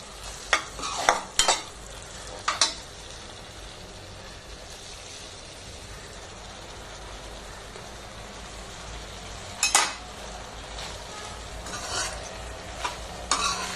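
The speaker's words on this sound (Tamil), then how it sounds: "நம்ம சாதத்தை போட்டு கிளறிடலாம்" Cooked rice being stirred in a wide kadai over a soft sizzle, with scattered scraping and clinking strokes of a spoon against the metal, close by.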